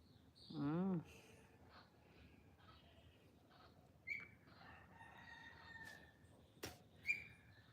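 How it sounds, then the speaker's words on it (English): A rooster crows once near the start at sunrise in Jamaica, faint and at a distance over quiet outdoor ambience, followed by a few short scattered bird chirps. "So the birds are chirping, the roosters are crowing."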